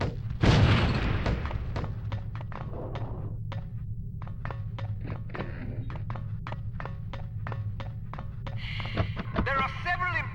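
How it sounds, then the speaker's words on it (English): A lipstick-shaped explosive in the spy video game No One Lives Forever detonates on impact, giving one heavy blast near the start. It sits over steady background game music with regular ticking beats and fainter thuds. "relatively inconspicuous-looking lipsticks are actually powerful explosive devices that detonate on impact"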